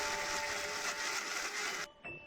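An electric mixer blends dried fish, dried chilies, onion and garlic with a loud, steady high-pitched whir that cuts off abruptly near the end, followed by a brief short restart.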